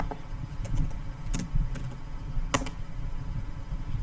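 Shell commands typed on a computer keyboard in a Linux terminal exercise, a few sparse, light key clicks with two sharper taps standing out against a steady low room hum.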